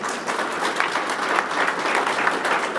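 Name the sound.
audience applause, clapping hands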